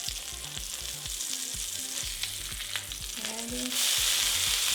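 A burger patty sizzles loudly on a hot griddle with a constant crackling hiss while a spatula scrapes and taps. The frying swells brighter as the patty is flipped, and one short word is spoken.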